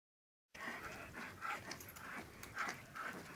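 Two dogs panting loudly and heavily, close by, a fast steady run of rasping breaths with no talk over it.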